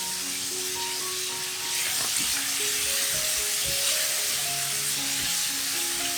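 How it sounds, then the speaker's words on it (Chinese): Lion's mane mushrooms sizzle steadily in a hot pan with soy sauce and rice wine while being stir-fried, a constant loud hiss with occasional scraping stirs. "加入酱油、 米酒炒均匀"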